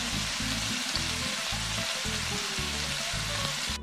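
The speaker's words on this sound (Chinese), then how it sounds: "煎到两面金黄" Bacon-wrapped asparagus dry-frying in a pan, with fat rendering from the bacon. A steady, close sizzle fills the clip over a low, rhythmic background.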